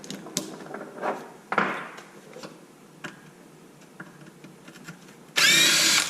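A power drill removes screws from an XMAXX 8S RC car: soft ticks and handling noises, then a loud, sustained whir near the end.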